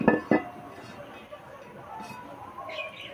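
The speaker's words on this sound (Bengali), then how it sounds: "উনানে চাটু বসিয়ে দেব" An iron chatu griddle is set down on a clay stove with two heavy metallic clanks close together at the start, followed by a low, steady background hum and faint clatter.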